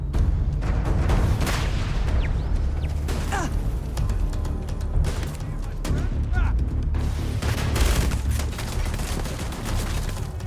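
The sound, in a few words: gunfire from the video game Starfield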